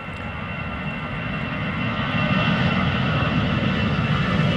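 A Vueling Airbus A320 jet departs Amsterdam Schiphol for Barcelona, its engines making a broad, steady roar with deep rumble that swells gradually louder, close by and continuous.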